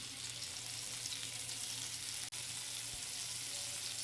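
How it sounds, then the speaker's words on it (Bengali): Potato pieces fry in oil, making a continuous even hiss of sizzling, quiet and steady, broken by one very brief dropout. "আলুগুলো তেলের সাথে নাড়াচাড়া করে দিয়ে দিচ্ছি"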